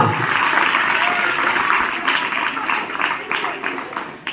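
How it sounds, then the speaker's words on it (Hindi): Loud crowd clapping at a government school's Republic Day program, a dense burst of applause lasting several seconds with a voice talking over it. "रेखा राजवीर की जोरदार तालियां।"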